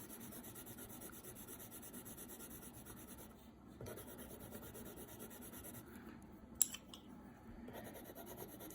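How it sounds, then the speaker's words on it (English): Basic Crayola colored pencils shade and blend on paper with soft, continuous scratching strokes. The sound is close and quiet, with a brief pause partway through. "these are basic Crayola colored pencils"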